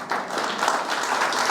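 A church congregation applauds, a dense, steady wash of many hands clapping together, fairly loud and even with no voices over it.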